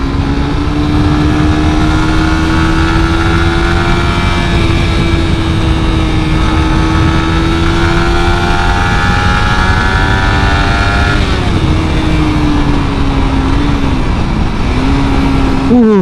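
A 2017 Suzuki GSX-R150 150 cc sport motorcycle engine drones loudly and steadily while riding, its pitch slowly rising and then dipping near the end, with heavy wind noise.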